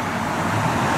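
Steady traffic noise of cars driving along a street, a continuous, fairly loud roadway rumble with no talk over it.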